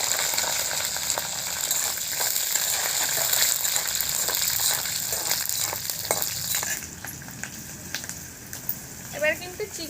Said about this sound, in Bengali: তেলের মধ্যে কিন্তু 2খানা রসুন একেবারে ছাড়িয়ে দিতে হবে, অল্প কালো জিরে,